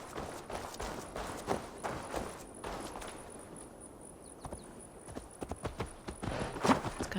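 Horse hooves clip-clop in an irregular, trotting rhythm as a rider travels across open ground in Assassin's Creed Valhalla. The hooves are moderately loud over a quiet bed of insect-like ambience, with no talking.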